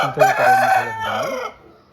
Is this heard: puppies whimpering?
no